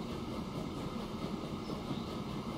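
A freight train departs in the video game Transport Fever 2, giving a steady low rolling rumble with faint rhythmic rail clatter, moderate and continuous, with no voices.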